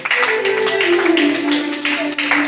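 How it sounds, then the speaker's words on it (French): An audience at a gospel talent contest draw claps and cheers for a late-arriving candidate, a dense burst of applause under voices. "Est-ce qu'on peut encourager le candidat sur nos acclamations?"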